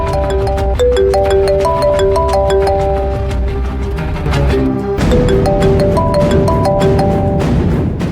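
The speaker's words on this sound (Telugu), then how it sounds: "ఎందుకంటే ఫోన్ రింగ్ అవుతుంది" Mobile phone ringing with a repeating electronic melody of bright tones, loud and steady, playing through once and restarting after a short break.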